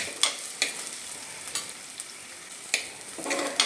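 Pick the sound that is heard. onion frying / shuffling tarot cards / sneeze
onion frying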